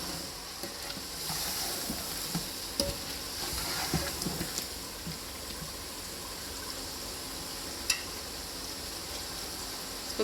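Potatoes stirred and mixed in a cooking pot for Sobat Painda, a traditional D.I. Khan dish, with a steady low sizzle and scattered soft scraping clinks throughout.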